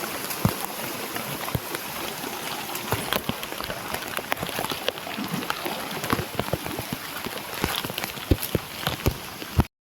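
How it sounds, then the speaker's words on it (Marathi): Heavy monsoon rain pours steadily in a village during rice-planting season, a dense, continuous hiss of drops pattering on surfaces with scattered sharper splashes close by, and no voices. "भात लावणीतून जसा पाऊस असतो ना तसा लागतोय"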